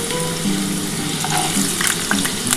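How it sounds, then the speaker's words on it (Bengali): Potatoes and Malabar spinach stems fry together in hot oil, a steady close sizzle with occasional crackles and pops, no voices. "আমি আলু আর পুঁই মেচুরিটা কিন্তু একসাথেই ভাজবো।"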